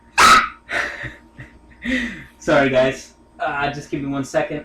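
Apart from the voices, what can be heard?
dog barking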